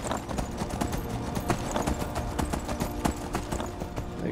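Horse hooves clip-clopping at a steady gallop in the video game Skyrim, a continuous rhythmic pattern of close, fairly loud hoofbeats with no talking over them.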